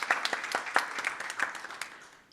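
A small group claps briefly for a speaker, sharp individual hand claps standing out near and distinct before thinning out and fading away.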